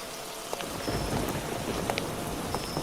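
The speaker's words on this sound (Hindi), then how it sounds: "सुबह से इतनी बारिश हो रही है" Heavy rain pours steadily on a muddy village road, a dense constant hiss with scattered sharp drips and splashes close by, loud and continuous throughout with no voices.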